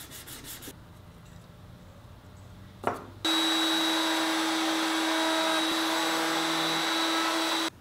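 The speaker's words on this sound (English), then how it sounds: "on a piece of sandpaper on a flat surface, I take it down to its final thickness" Loose tenon stock for a hall table rubs back and forth on sandpaper laid on a flat surface, a steady close hiss that starts after a few faint knocks and continues evenly to the end.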